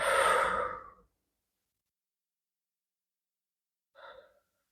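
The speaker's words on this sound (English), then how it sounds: "Big deep breaths here." Deep breathing during a seated yoga twist: one long, loud exhale, then silence and a shorter, softer breath near the end.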